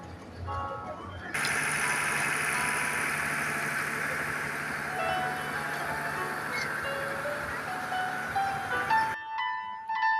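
A train locomotive idles steadily at a Bangladeshi station while uncoupled from its carriages for shunting, a constant droning hum with a low steady tone from about 1.3 s to 9 s before it cuts off, with faint background noise around it.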